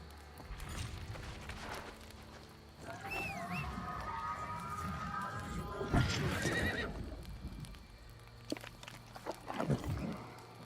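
A horse whinnies in New World in a high, wavering call amid hoof clops and shuffling, with game-like ambience and a voice speaking in the background.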